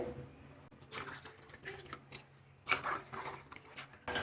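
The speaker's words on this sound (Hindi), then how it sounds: "पानी डालेंगे।" Water poured into a glass holding mango squash, heard as soft trickling and dripping ticks that continue steadily and close by for several seconds.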